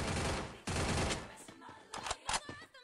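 Rapid bursts of AK assault rifle fire in the Free Fire battle royale game, dense automatic volleys at first, then scattered shorter shots and game effects toward the end.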